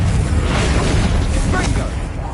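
A fire spell blast in a wizarding video game rumbles as a dense, broadband roar, steady and loud, with a brief crackling flare near the end.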